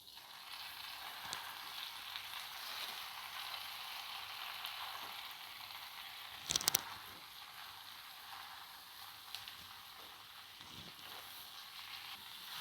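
Gongura leaves stirred in hot oil give a steady, quiet sizzle, with a couple of brief clanks of a utensil against the pan midway and no speech.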